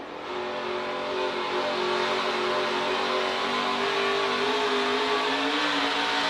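A dirt race truck engine roars steadily and close at high revs, its pitch rising and falling slightly as the driver works the throttle through the lap, with no voices.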